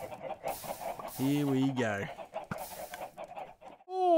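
Hens clucking in the video game Minecraft, several short clucks in a row at close range, with brief speech at the end.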